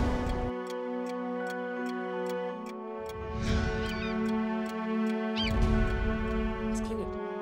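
Several clocks tick in an even, regular pulse, crisp clicks near and steady beneath a tonal hum, with a person talking over them.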